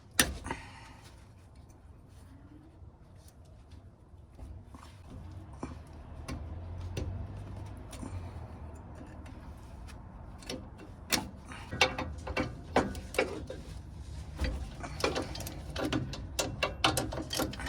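Metal clicks and ratcheting taps from working a cotter pin out of a worn car suspension part, close up, in irregular bursts that grow busier toward the end, with no talking.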